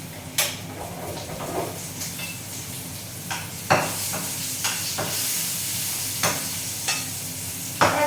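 Onions sauté in a pan with a soft, steady sizzle, broken by a few sharp clinks and scrapes of stirring; no one speaks.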